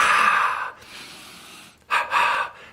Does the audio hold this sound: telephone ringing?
no